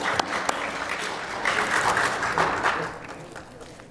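A large audience breaks into sustained applause from a played recording, a dense, moderately faint wash of clapping that builds and then tapers off.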